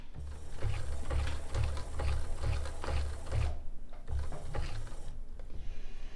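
A sewing machine fitted with an open-toed foot stitches granito, running forward in a steady rapid rhythm, pausing, then reversing; close, loud and continuous mechanical clatter with brief stops.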